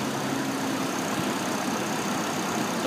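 A 2007 Hummer H3 with its Vortec engine idles under an open hood, a steady, even engine drone with no talking.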